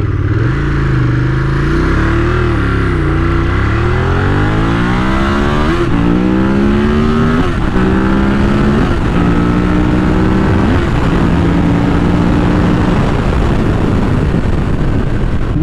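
A Ducati Monster 1200 naked motorcycle engine revs loudly and continuously, pitch climbing and holding through repeated rising sweeps, close and alone with no talk.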